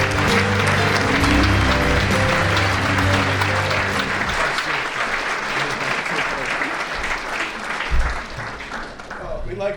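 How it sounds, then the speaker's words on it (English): Sustained applause for softball teams at an award acceptance, dense crowd clapping throughout, loud and steady, tapering slightly toward the end. "Let's have a round of applause for these wonderful teams."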